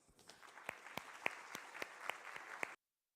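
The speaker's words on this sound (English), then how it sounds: "So let's give Tara a round of applause." An audience at a security conference talk claps steadily for nearly three seconds, with a few sharp individual claps standing out before the applause cuts off abruptly.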